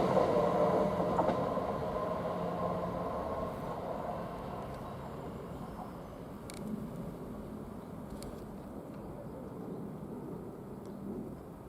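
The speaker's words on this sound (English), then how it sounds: "Now that train just now passed," A train passes through Royston station, a broad rumbling roar that is loudest at first and slowly fades into distant rolling noise.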